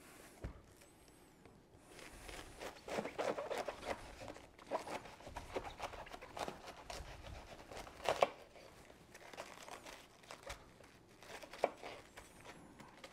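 A knife cutting a head of cabbage down the middle on a board while making sauerkraut, soft irregular crunching and crackling cuts with light taps and rustles, fairly quiet and close.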